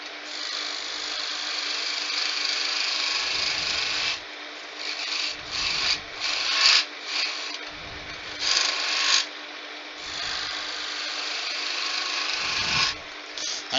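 A wood lathe turns a spindle while a tool cuts a cove into a candlestick, giving a steady close scraping and rasping hum with repeated short deeper cuts as the tool is pushed in.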